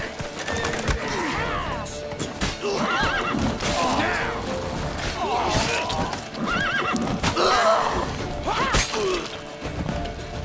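Horses in The Witcher 3: Wild Hunt neigh and whinny again and again over galloping hooves, loud and close, with crashes and impacts in a tense chase scene.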